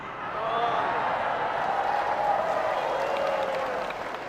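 Audience applause during a humorous religious sermon, a broad sustained wash of clapping from a crowd with a voice speaking faintly over it.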